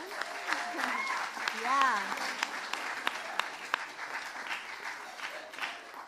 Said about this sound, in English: let's stand up and give you a round of applause here